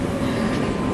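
Passenger train in Zurich, Switzerland, heard as a steady, loud rumble of rolling wheels and car noise that runs through the whole short moment, close by and without pauses.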